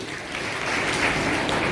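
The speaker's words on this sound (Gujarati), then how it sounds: "તાળીઓ ફરી પડતી." Brief burst of clapping from an audience at a school farewell function, a steady crowd applause heard for a moment at moderate volume.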